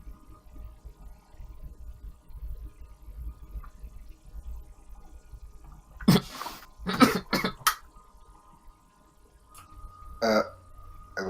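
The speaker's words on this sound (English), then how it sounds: "I love that it made him cough" A man coughs a few times in a short, harsh cluster after drinking water, loud and near, followed by a brief throat clear amid quiet room background.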